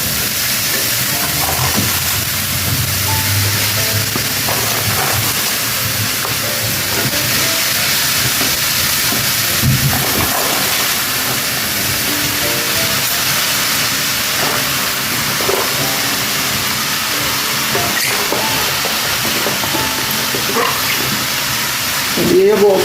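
Cabbage tipped into a hot pot while cooking, giving a loud, steady broadband steaming hiss and sizzle that runs unbroken and close throughout, with faint clatter underneath.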